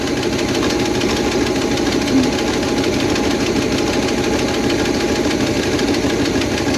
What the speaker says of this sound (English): Definitely got a misfire.